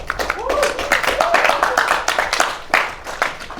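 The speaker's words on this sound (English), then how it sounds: "So big round of applause for the debaters tonight." An audience at an evening debate event claps for the debaters in a dense burst of applause, with voices and cheers mixed in over the clapping.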